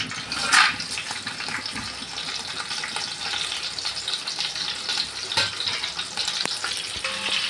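Pulao spices, cashews and bay leaf frying in a pan, giving a steady close sizzle with light crackle and a few sharp utensil clicks throughout, no voices.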